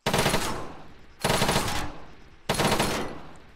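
Three long bursts of rapid automatic small arms fire in ArmA 3 during a bullet penetration test, each burst loud, dense and close, separated by short gaps.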